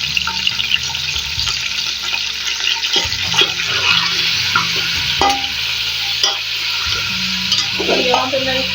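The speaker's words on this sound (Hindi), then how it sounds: "हमारा जो घी है वो गर्म हो चुका है और अब हम इसमें डालते हैं गोश्त।" Mutton pieces frying in hot ghee for Peshawari namkeen gosht, a loud continuous sizzle with repeated scraping and stirring of the pan, close up and without speech.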